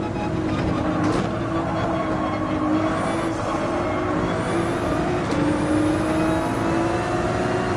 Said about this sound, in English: I can hear the car on my left. I put engine noises on high